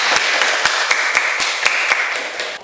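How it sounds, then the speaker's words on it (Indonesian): Classroom of students clapping for their classmates during a lesson, a steady run of sharp, fairly close claps from a small group that keeps going with an even rhythm throughout. "Tepuk tangan untuk kalian."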